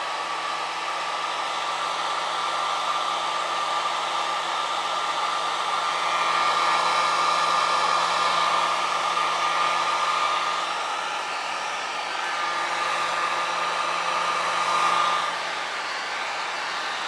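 A heat gun blows steadily as it shrinks heat shrink tubing during restoration of a vintage Hallicrafters SX-100 Mark 1B shortwave receiver, a close, continuous hairdryer-like roar that swells slightly midway and holds without a break, no talking.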